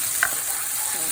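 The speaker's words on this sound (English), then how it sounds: "So we are frying now chopped onions in butter ghee." Chopped onions frying in butter ghee, a steady soft sizzle with a brief stirring scrape near the start, close and even throughout with no talking.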